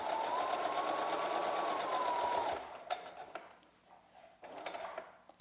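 A sewing machine stitches a fabric face mask with cloth ties, running in a steady close whir for about two and a half seconds before stopping, then light handling clicks and fabric rustles follow.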